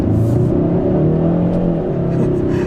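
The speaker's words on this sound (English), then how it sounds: "there's that wheel spin again." A 2022 Hyundai Sonata N Line breaking into wheel spin, the engine revving loudly with a steady droning whir and rumble throughout.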